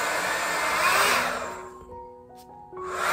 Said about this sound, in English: This you see is just giving blower on your hair.